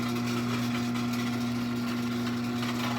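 A Liftmaster 1155LM 1/2 HP chain-drive garage door opener motor runs with a steady, even electrical hum and mechanical drone, constant and close throughout with no talking.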